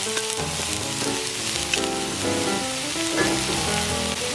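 Sliced baby portobello mushrooms hit a Blackstone griddle slicked with avocado oil at a campsite, crackling and sizzling loudly and steadily close up, with no talking.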